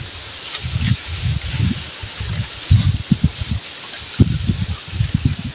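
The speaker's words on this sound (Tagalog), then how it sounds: "malakas yung hangin." Gusty wind buffets the microphone in repeated low rumbling bursts, with a steady airy hiss underneath and no voices.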